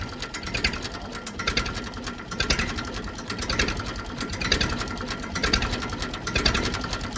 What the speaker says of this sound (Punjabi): ਇੰਨੀ ਘੱਟ ਰੇਸ ਤੇ ਬੰਦ ਰੇਸ ਤੇ ਕੋਈ ਵੀ ਟਰੈਕਟਰ ਸਟਾਰਟ ਨਹੀਂ ਦਿੰਦਾ